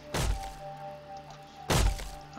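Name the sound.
smashing wooden boxes in the video game 7 Days to Die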